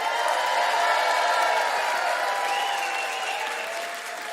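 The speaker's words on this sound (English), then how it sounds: "clap and cheer really loud, like they're gonna miss something" A crowd at a lobby forum gathering claps and cheers loudly, with sustained applause and whoops that hold strong and then taper off slightly toward the end.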